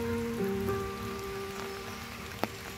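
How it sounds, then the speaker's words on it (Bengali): Rain falling on leaves in a forest canopy near Kolkata during the monsoon, a faint steady patter with a few tonal hums beneath and one brief sharper drip near the end. "বৃষ্টি পড়ছে, কিন্তু বৃষ্টি কিন্তু পাতায় সব আটকে যাচ্ছে"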